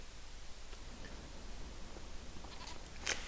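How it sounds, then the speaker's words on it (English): Goats in the Farming Simulator 25 video game let out a faint, brief bleat near the end of a quiet stretch of low background hiss. "How are our lovely goats doing?"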